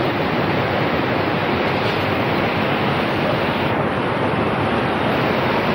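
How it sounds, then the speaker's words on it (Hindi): Fast-flowing river water roars steadily in Azad Kashmir, a loud, continuous broadband rush with no pauses and some wind buffeting on the microphone. "पानी का शोर बहुत है, समंदर की स्पीड माशाल्लाह बहुत है, पानी ठाठे मार रहा है जनाब।"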